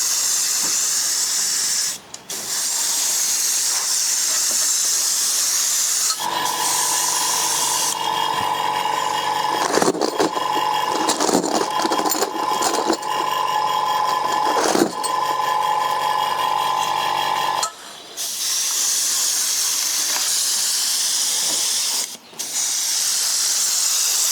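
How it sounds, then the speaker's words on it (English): Airbrush spraying light coats of Vallejo black brown paint onto 1/6 scale Panzer IV model tank tracks, a steady close hiss throughout with a louder, buzzier compressor-like stretch in the middle. "so I'm just going to go over the airbrush now with black brown, Vallejo black brown, just light coats."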